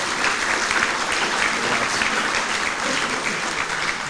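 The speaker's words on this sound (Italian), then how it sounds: "fate un applauso adesso in memoria di Giani" An audience at a talk about Venice and the Piave applauds in memory of Edoardo Giani, a dense, steady, loud wash of clapping from many hands that holds without a break.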